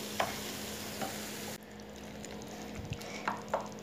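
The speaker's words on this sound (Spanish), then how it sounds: "Mientras nosotros estamos dorando las salchichas, que fácilmente y rápido se dora." Sausages browning in a frying pan with tomato sofrito, a steady soft sizzle under occasional stirring clatter and a few utensil taps, fairly close and moderate in level.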